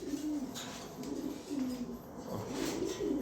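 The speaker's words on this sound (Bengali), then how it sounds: "এখানে এক পেয়ার টপ কোয়ালিটি এক পেয়ার লাহোরি কবুতর আছে" A pair of Lahori pigeons cooing softly in repeated low, throaty phrases, moderately close with a faint background hiss and no talk over them.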